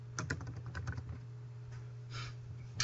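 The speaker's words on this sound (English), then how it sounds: "So if I can just type in purchase orders," Quick, light keystrokes on a computer keyboard entering a search term, a brief burst of close clicks followed by a few scattered taps over a low steady hum.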